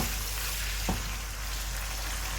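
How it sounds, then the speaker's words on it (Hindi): Chicken for a green-chili karahi frying in hot oil, a steady, close hiss of sizzling with a brief stir sound partway through, no talking. "4 से 5 मिनट इसको फ्राई करना है ताकि चिकन का कच्चापन ख़त्म हो जाए"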